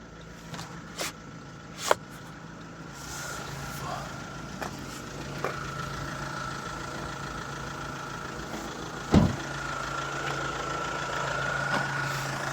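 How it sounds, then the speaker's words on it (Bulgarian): A VW Amarok Highline pickup's 2.0 TDI Bluemotion diesel runs at a steady idle, low and even throughout, with a few faint clicks and one sharper knock midway. "двигателя мърка"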